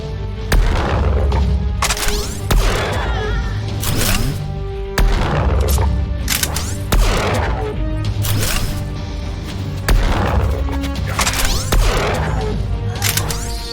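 Repeated weapon fire in the space game SpaceBourne 2, loud booming shots in bursts every second or two, with crashing impacts layered over a steady game soundscape.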